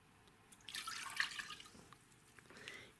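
Apple cider vinegar is poured into a saucepan, a faint close liquid splash and trickle lasting about two seconds before tapering off, with no talk.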